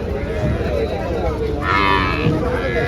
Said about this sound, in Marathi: इकडं तुम्हाला खाली म्हशी पाहायला भेटते